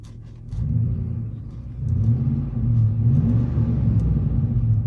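A truck's exhaust rumbles low and steady from inside the cab with the windows up, its universal Valvetronic Designs muffler valve open, the droning tone swelling slightly as the engine builds a little.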